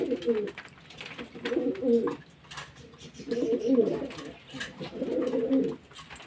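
Pigeons in a loft coo in repeated low, throaty bursts, close and clear, with faint bird chirps and soft background noise between the calls.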